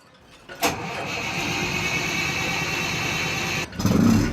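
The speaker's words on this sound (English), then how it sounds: "they're ready to start the engines" Engines of a fishing charter boat start: a sharp crank burst, then a steady, loud rumbling idle that runs for about three seconds before a second louder surge as the engine catches and revs.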